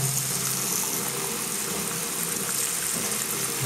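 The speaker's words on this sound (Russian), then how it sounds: "Сейчас проверим горячую воду." Hot water running steadily from a tap in a hotel room in Sliema, Malta, a constant hissing splash without pauses or voices.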